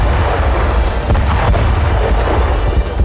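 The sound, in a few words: explosion of bomb dropped by drone on tank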